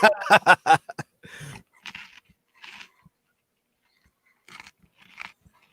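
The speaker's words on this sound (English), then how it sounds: "So what are you munching on?" Someone munches crunchy food during a live show, with a quick run of sharp, close crunches at first, then sparser, softer bites and chewing separated by near silence.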